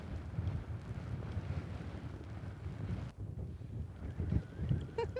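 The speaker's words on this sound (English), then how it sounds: "The wind is pretty intense most of the time." Strong wind buffets the microphone outdoors in western Canada, a constant roaring rumble with gusty surges and a brief dip partway through, with no one speaking.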